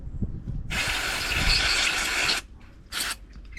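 An aerosol can of carburettor cleaner sprays onto a Zama carburettor from a Stihl MS200T chainsaw: one long, loud hissing burst of about two seconds, then a brief second short spray, with faint handling clicks around them.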